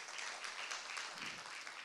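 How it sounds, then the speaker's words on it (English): A church congregation applauding together as a clapping offering, a short, quiet, steady wash of many hands clapping heard from a distance. "let's give God our very best clap offering there"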